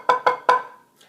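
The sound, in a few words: drum check pattern, four sixteenth notes then a quarter note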